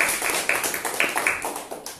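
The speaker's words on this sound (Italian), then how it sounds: "Un caro applauso a Federico Agliato." An audience at a book presentation applauds, a dense, steady patter of many hands clapping indoors, with sharp individual claps standing out near the listener.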